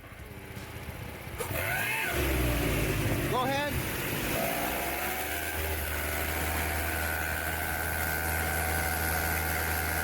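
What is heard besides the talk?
Buick engine running with odd exhaust leak noise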